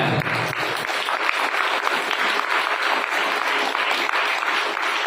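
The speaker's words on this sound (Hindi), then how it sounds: "और ताली बजानी है।" Congregation applause at a Hindi Christian prayer service: dense, continuous clapping from a crowd runs steadily and fairly loud throughout, with no clear speech over it.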